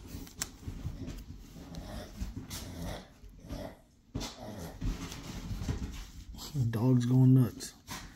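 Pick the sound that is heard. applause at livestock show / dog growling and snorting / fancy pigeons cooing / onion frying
dog growling and snorting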